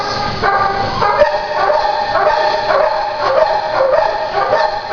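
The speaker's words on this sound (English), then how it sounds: "This is Rosie, a 65-pound dog who is a year old" A year-old, 65-pound dog yips and barks over and over at close range, high and whiny, in a steady run of short calls with no pauses.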